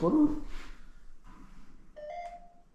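A phone held against metal gives a short electronic beep of about half a second, close and moderately loud, after some murmured background talk.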